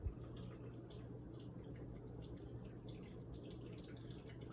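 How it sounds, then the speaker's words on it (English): Water pours through a tall cascading fountain of stacked bird-bath cups, running as a steady, soft, continuous trickle and splash on its own. "he'll be pouring the water through the second one again"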